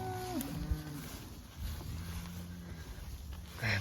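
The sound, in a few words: cattle mooing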